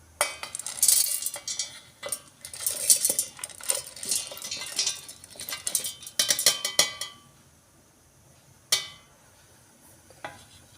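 Garlic, ginger, onion and cloves are dropped into a mixie jar, giving scattered clinks and clatters of utensils against metal and glass in bursts, then a couple of isolated knocks after a pause.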